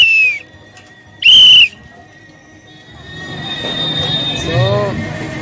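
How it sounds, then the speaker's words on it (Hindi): A toy whistle bought at a busy market gives two short, shrill blasts, the second louder. A crowded bustle with voices and distant rumbling takes over afterward. "मैंने भी एक सीटी खरीद ली है"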